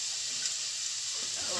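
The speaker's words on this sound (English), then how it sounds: "Got oil in the pot, in goes the onion." Onion sizzling in hot oil in a pot, a steady close frying hiss running the whole time with a faint stir partway through.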